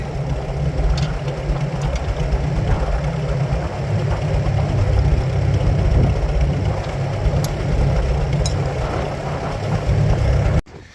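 A 1949 Farmall H tractor engine idles nearby with a steady, low, thumping rumble throughout, then cuts off abruptly at the very end.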